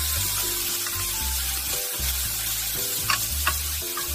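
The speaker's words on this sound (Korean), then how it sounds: "버섯숨이 죽으면 양파와 대파 넣어 볶아주세요" Onion and green onion stir-fried with enoki mushrooms in a hot pan, with a continuous close sizzle and a couple of quick spatula knocks near the end.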